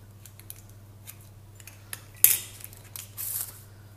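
Scissors snip away excess tart dough and baking paper around tart tins, a few soft cuts followed by one sharp, louder snip and a brief rustle, close and quiet, with no talking.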